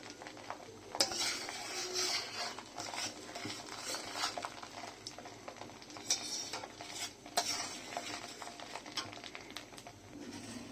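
Whole cumin, royal cumin and panch phoron spices frying briefly in hot oil for an olive chutney, a soft steady sizzle with scattered clinks and scrapes of a spoon stirring against the pan.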